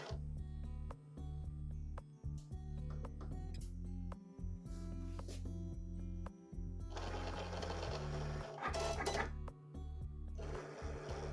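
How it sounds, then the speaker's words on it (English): Cricut Explore Air 2 cutting vinyl: a steady motorized whir with rapid rhythmic ticking and clacking as the blade carriage moves, broken by short pauses and a harsher buzzing stretch near the end, close and alone. "The machine already started cutting and it shouldn't take that long."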